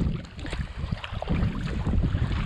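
Steady wind noise rushes over the microphone during a kayak paddle near Ball Island at Hobucken, Pamlico County, North Carolina, with low rumbling gusts and faint water sounds, loud and continuous, no talking.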